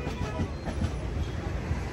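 Jan Shatabdi Express train running from Vijayawada past the Krishna River, a constant loud rumble with a faint rhythmic clatter of wheels from inside the carriage, with no one speaking.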